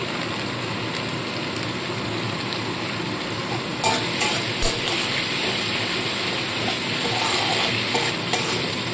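Ginger-garlic spice paste sizzling in a pan as Kashmiri chili powder goes in, a continuous loud hiss that swells midway with stirring scrapes and bursts of crackle.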